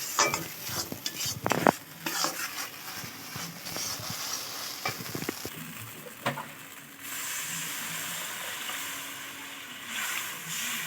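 A spice paste is stir-fried in a pan for an egg and potato curry, with scraping stirs and clinks over a crackling sizzle that turns to a steadier, smoother frying hiss partway through, with no voices.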